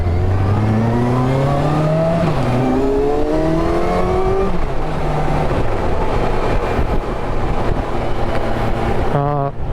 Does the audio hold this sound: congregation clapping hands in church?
no